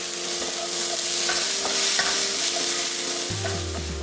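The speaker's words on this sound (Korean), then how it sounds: "중약불에 식용유 1스푼 정도 두르고 야채 넣고 살짝만 볶아줬다" Thinly julienned vegetables stir-fry in about a spoonful of cooking oil in a pan over medium-low heat, producing a continuous close crackling sizzle with light scraping as they are tossed.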